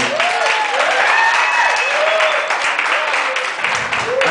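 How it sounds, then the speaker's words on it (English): Wedding guests break into loud, sustained applause during a best man's speech, a dense wash of clapping from a nearby crowd filling the room, with a few whoops and voices mixed in. "Could you give them a round of applause, please?"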